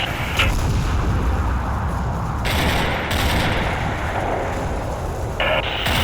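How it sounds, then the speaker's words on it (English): Heavy gunfire and artillery in the WWII video game Combat Mission (Lions of Carpiquet battle) form a loud, continuous barrage of rumbling blasts and overlapping shots with no pauses for the whole stretch. "We're under heavy fire from the 3-story building beyond the wood"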